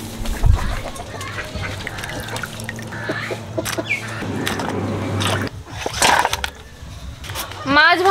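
A flock of ducks gathers to eat fish, scattered wing flaps and quacking calls mixing with splashy bursts nearby while a person talks over the commotion.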